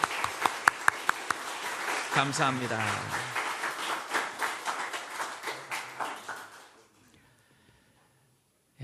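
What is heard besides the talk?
church congregation applauding in welcome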